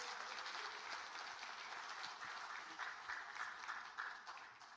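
Sustained applause from a crowd at a People Power Party event fills the moment, steady and even, with little else audible.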